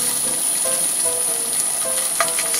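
Starch-coated tofu frying in a generous pour of hot cooking oil in a preheated pan, giving a loud, steady crackling sizzle throughout with small pops and no talking.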